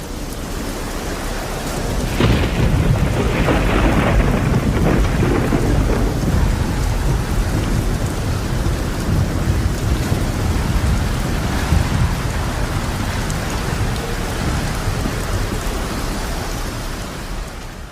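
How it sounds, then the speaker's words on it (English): A city thunderstorm: a loud crack of thunder breaks in, then torrential rain pours steadily with rumbling thunder rolling underneath throughout. "a storm system had sent cracking thunders and a lashing of torrential rain squalling through the city"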